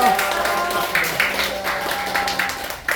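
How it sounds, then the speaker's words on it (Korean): Applause from guests at a first birthday party, a few seconds of scattered, moderately loud clapping from a small crowd, mixed with a speaking voice and cheering. "너무 고생한 어머니 아버님께 큰 박수"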